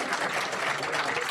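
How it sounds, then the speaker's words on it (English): Applause from the audience at a college athletics banquet, a steady dense patter of clapping that fills the whole short stretch at moderate level with no voices on top. "So round of applause for yourselves."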